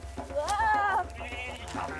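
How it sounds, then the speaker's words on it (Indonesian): Texel sheep bleat in the Wonosobo highlands, one loud wavering bleat up close followed by fainter calls from other animals nearby, over a low outdoor murmur. "Salah satunya adalah domba Texel yang dibawa pada masa penjajahan."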